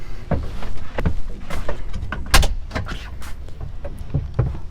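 Window and vent panels on a 2019 Polaris General 4 1000 High Trail side-by-side being pushed open, a series of close plastic clicks, thumps and latch knocks in quick succession with no talking.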